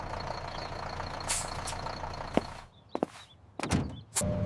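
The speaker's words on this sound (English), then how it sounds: "Here is the school bus." A school bus pulls up with heavy thunks, a sharp air-brake hiss and door clunks over a low idling rumble, fairly close and loud, with no one talking.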